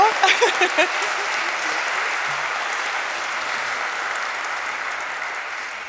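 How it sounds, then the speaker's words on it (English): An audience round of applause at a choral ensemble concert, with steady, full clapping from a crowd that continues evenly, after a brief voice at the very start. "I think that deserves a round of applause"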